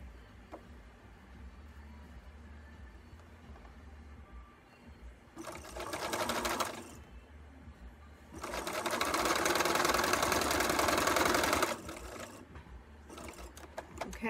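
A sewing machine stitches fabric squares in two bursts, a short run and then a longer steady one with a quiet pause between. A third brief run starts at the end, and the whir is close and clear over a quiet room.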